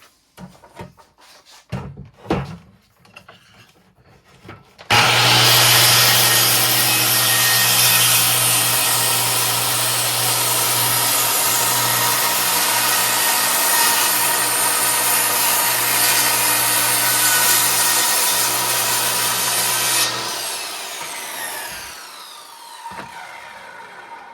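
A power saw rips across a clamped wooden board for a basement storage door, a loud continuous whining cut lasting about fifteen seconds after a few quiet handling knocks, then stopping abruptly.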